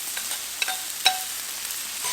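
Carrots and broccoli fry in sesame oil on a Blackstone griddle for a shrimp stir fry, a soft steady sizzle with a couple of light metallic clinks, no voices.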